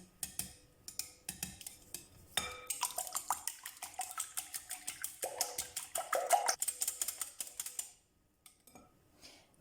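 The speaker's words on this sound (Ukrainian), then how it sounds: "В миску вбиваємо 5 яєць, додаємо пів ложечки солі і перемішуємо вінчку все до однорідності." Eggs with salt are beaten in a bowl with a whisk, a rapid run of close, light metallic clicks and taps against the bowl, with no talk.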